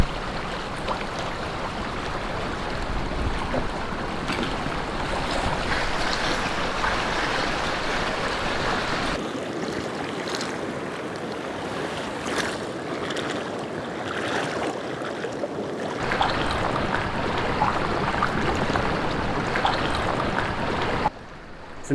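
A flash flood surges through a dry riverbed in the Namibian desert, its muddy water full of wood and rocks; a loud, steady roar of rushing water and breaking waves continues without pause, close by, with no talking.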